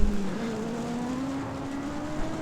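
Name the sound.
race car accelerating on track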